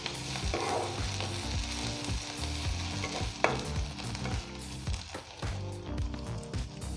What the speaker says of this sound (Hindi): अब इसमें हम प्याज डाल के भूनेंगे।